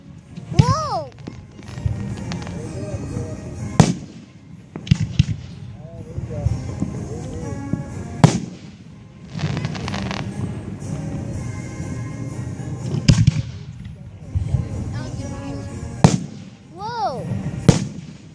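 Fireworks show with sharp booms and crackling bursts at irregular intervals, some whistling rockets rising before the bangs, while people talk and exclaim throughout.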